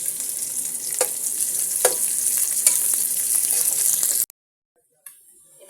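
Chopped onions sizzling in hot ghee in a pan, a steady bright frying hiss with a few scraping stirs, cutting off abruptly near the end before faint sizzling resumes.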